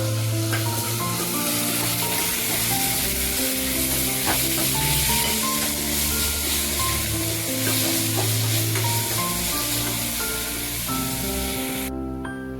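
Two medium onions fry in a pan for mushroom donne biryani, a loud continuous sizzle with stirring scrapes and clatters layered over a low hum, cutting off sharply at the very end.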